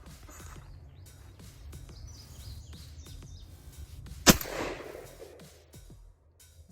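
An ATI Bulldog 12 gauge semi-auto bullpup shotgun with an 18.5-inch barrel fires a single sharp, loud shot outdoors, followed by a short fading echo amid faint birdsong.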